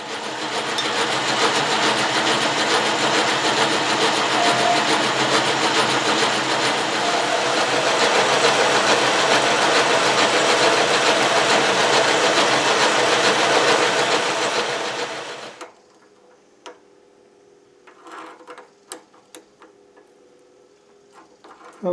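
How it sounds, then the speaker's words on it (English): A metal lathe turns down a hand crank shaft to fit a bushing, giving a loud steady mechanical whir for about fifteen seconds before stopping abruptly, followed by quiet faint clicks and handling noises. "now I'm going to turn this down so that it'll fit in that bushing"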